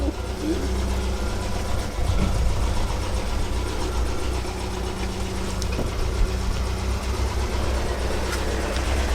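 A 1977 MGB Roadster engine runs steadily as the car reverses out, a low continuous rumble with slight uneven knocks, close by and loud, with no talk over it.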